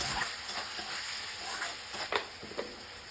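Ground spices, cumin powder and Kashmiri chilli powder, are stirred in a pan for Bengali ghugni, a soft continuous sizzle with occasional scraping strokes and a few louder clacks near the end, no voices.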